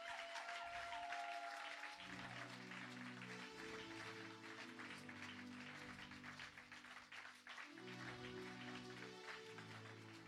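A crowd at an evangelism crusade applauds and cheers steadily for about ten seconds, with the broad wash of clapping carried over loud, sustained music from instruments.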